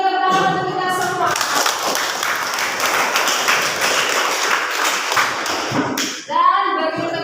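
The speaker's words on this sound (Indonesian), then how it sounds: "Sekali lagi beri tepuk tangan untuk kita semua." A vocational school classroom gives a burst of loud, dense applause that lasts several seconds, with a few voices around it before and after.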